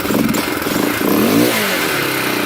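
A two-stroke 250 KTM off-road dirt bike engine revs up and down nearby, a raspy buzzing exhaust that rises in pitch, then settles back to a steady drone.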